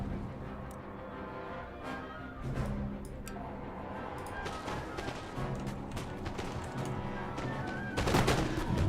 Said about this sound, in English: We're going to be shooting them from close range from behind here